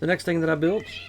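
Cats meow loudly in a home, three drawn-out, wavering yowls in quick succession, with a voice speaking briefly alongside them.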